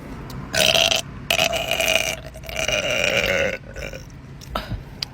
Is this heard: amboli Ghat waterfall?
no